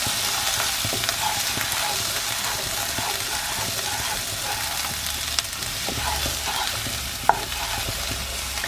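Steady sizzling of chorizo and peppers frying in a pan without oil, with occasional stirring scrapes and pops, close and continuous.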